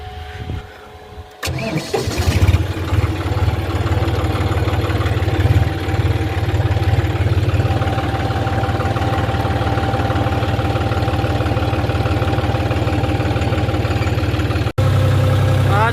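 A tractor engine turns over and settles into a steady, loud idle with a low rhythmic chug that continues throughout, ending with a brief cutoff near the end.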